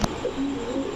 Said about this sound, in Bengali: এই কবুতরগুলো ছেড়ে পালা তো প্রচুর উড়ে, বড় মাথার একটা কবুতর